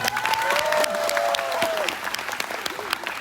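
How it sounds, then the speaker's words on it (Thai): An audience at a Thai song event breaks into applause, dense clapping with a few voices and a brief whistle-like tone over it, fading slightly toward the end. "ขอเสียงปรบมือให้กับทุกๆท่านด้วยนะครับ"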